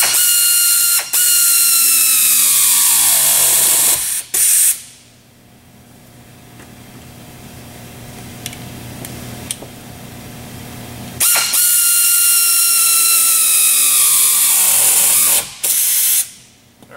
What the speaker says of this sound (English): From here, you can go ahead and tighten up your clamps again.